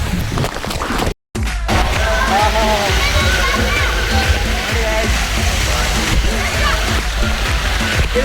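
Water splashes and sloshes heavily and continuously at close range. The sound cuts out for a brief moment, and faint voices mix into the churning.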